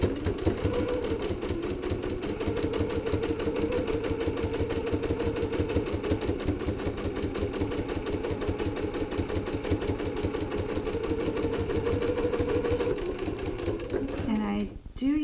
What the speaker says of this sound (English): And I'm just stitching right along the edge of that lower lip.